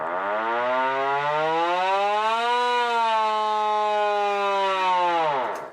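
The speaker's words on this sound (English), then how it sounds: "Air raid siren? They make a hell of a noise." A vintage air raid siren winds up into a loud, sustained wail, rising in pitch, holding steady, then dipping slightly before cutting off abruptly, close and alone with no talking.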